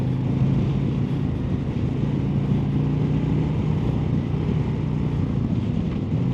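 A Harley-Davidson Street Glide or Road Glide motorcycle ridden in sport mode, with a steady low engine rumble and constant wind noise from a rider's view, and no break or rise in pitch.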